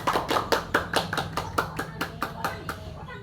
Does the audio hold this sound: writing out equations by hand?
no